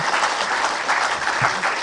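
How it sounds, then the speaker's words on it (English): Steady applause from a summit audience, a dense wash of clapping that holds evenly throughout. "can we have a big round of applause for all the seen and unseen people"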